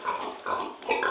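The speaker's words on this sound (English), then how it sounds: "Pigs, big pigs." Large farm pigs grunt continuously at close range, a run of overlapping rough snorts and oinks rising in three clusters across a short span, with no voices.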